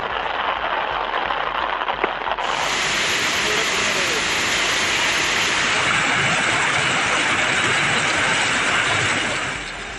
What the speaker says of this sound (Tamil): பலத்த காற்றுடன் கனமழை கொட்டியது